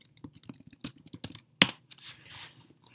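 Quick, irregular clicking of keys on a computer keyboard, close and crisp, with one louder clack partway through and fainter tapping after it.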